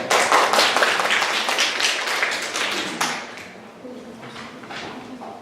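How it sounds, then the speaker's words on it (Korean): Audience applause at a Korean-language speech contest for foreign students, dense clapping for about three seconds that thins to scattered claps, with a speaking voice faintly heard near the end. "큰 박수를 쳐주시기 바랍니다"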